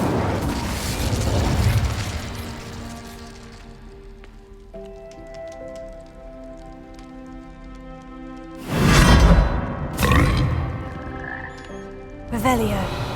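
An Incendio fire spell cast in Hogwarts Legacy, with a long sustained magical burning drone and several sharp bursts of flame later in the scene.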